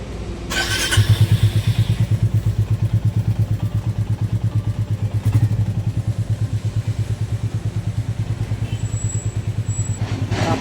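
A motorcycle starts up and settles into a close, steady idle with a rapid pulsing thump, ready to leave on a Konkan road trip from Dombivli; no speech.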